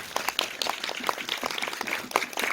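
An audience at a Busan International Film Festival screening Q&A claps, a moderately quiet, continuous patter of many hands with a few sharper individual claps standing out.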